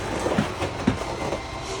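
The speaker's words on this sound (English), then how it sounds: "we're going to bring our awning in, or our slide room in, so you're able to hear that" Motors in the slide room of a 2021 Salem FSX 280RTX toy hauler travel trailer retract the room, giving a steady mechanical rumble broken by a couple of soft clunks.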